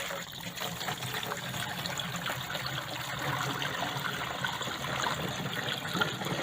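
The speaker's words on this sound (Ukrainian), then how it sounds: "Заливаємо бадягу в сприскувач." A homemade badiaga mixture for treating apricot trees is poured into a garden sprayer, a faint steady trickle and gush of liquid throughout.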